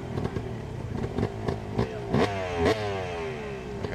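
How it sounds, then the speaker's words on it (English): A hill-climb motorcycle at a Harley-Davidson event revs in a series of sharp, rapid blips, with a buzzing engine note rising and falling in pitch, moderately near with no talking. "Hear the bike revving up."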